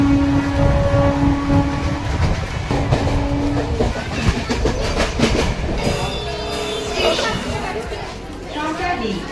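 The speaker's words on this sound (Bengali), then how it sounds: "এই দেখো ট্রেন, এই এক্ষুনি নামলাম" A train runs on rails on a journey near Purulia, with a loud steady rumble and rhythmic clatter of wagons while people talk throughout.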